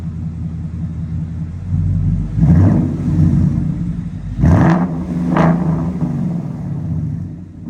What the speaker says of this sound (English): It's definitely louder when you rev it up.